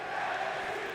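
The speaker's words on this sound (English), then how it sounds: "As you can hear this crowd, they are appreciating this main event." Virtual arena crowd in the WWE 2K20 wrestling video game during a women's main event, a steady, dense roar of cheering that holds level for the full second with no speech over it.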